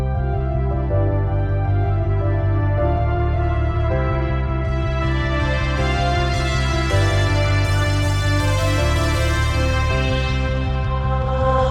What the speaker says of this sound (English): So we start with a low pass filter and it continues to open up